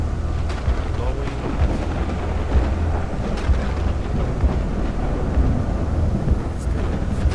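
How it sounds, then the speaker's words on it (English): Steady rain pours with rolling thunder in the video game The Signal, a dense, continuous, loud wash of noise with low rumbling throughout and no clear breaks. "See how as soon as I make those things, it started raining, thunder and shit."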